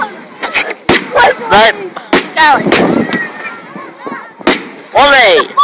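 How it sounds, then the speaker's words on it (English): Fireworks going off at the Baldock firework show: several sharp, loud bangs at irregular intervals, mixed with nearby voices talking and calling out. "Can I be in your fireworks?"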